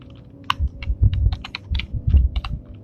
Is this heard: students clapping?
no